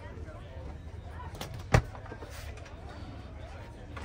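A single sharp click as a Dometic CFX fridge's locking drawer slide snaps back into place inside a camper van, brief and close, surrounded by a low background hum.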